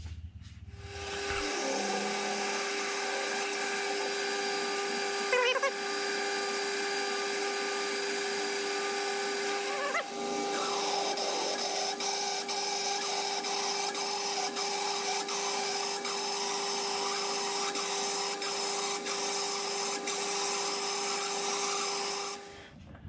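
A steady, high metallic whine of a lathe boring metal with a 16mm boring bar runs almost without a break, with a few brief shifts in pitch and no voices.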